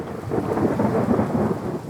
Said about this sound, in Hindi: हे भगवान, लगता है बारिश होगी।